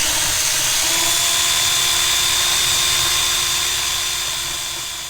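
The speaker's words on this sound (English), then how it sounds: "So we drilled a hole." Power drill boring a hole through the sheet metal of a van body with a metal bit, a loud steady high-pitched whine that runs unbroken for the whole stretch and tapers off slightly at the end.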